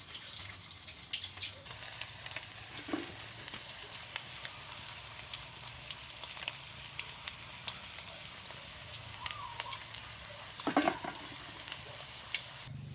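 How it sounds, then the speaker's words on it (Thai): Sun-dried snakehead fish frying in oil gives a faint, steady sizzle with scattered small pops and a couple of louder crackles and clatters near the end, with no talking. "ปลาช่อนแดดเดียว ทอดค่ะ"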